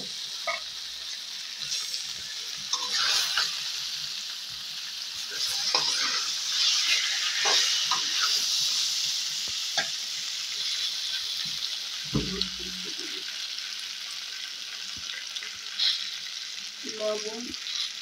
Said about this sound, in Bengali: পেঁয়াজ মরিচ ভাজা হয়ে গেছে, এখন কচুটা দিয়ে দেব।